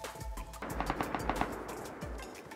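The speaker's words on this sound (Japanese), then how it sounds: "銃声してるね。" Rapid bursts of gunfire in the video game Rust crackle in quick succession, a distant-sounding exchange of shots with a couple of heavier thumps, no talking.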